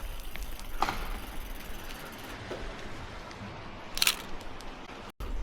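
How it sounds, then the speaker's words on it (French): Two brief clicks of an Insta360 Go Ultra camera shutter taking a photo outdoors near a small bridge, the sharper one around four seconds in, faint against steady background noise. "quand on fait la photo on entend le déclencheur comme appareil photo"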